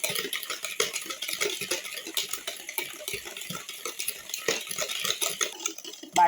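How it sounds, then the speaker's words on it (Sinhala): Muffin batter with melted butter stirred in a bowl, a steady run of wet scraping and light clinks of utensil against the dish, close and continuous with no talk. "ඊට පස්සේ හොඳින් මේක මික්ස් කරන්න ඕනේ"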